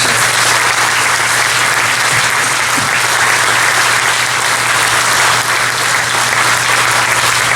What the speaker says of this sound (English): Let's give them a big round of applause for their service.